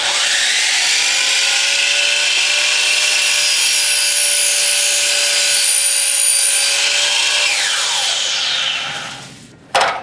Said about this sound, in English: I like to bring the saw down kind of close and start it here